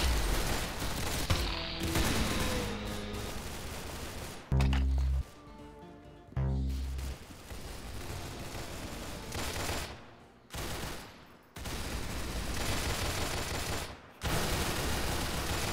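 Rapid bursts of automatic gunfire from a shooter video game, loud and dense, broken by short pauses and single cracks, with no talking over it.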